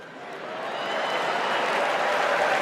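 Sustained applause from a Democratic National Convention gallery crowd, a dense steady wash of clapping that swells slightly and stays loud throughout.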